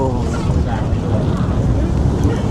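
Strong mountain wind on Khao Kho in Thailand buffets the microphone with a loud, steady low roar and rumble that lasts the whole time.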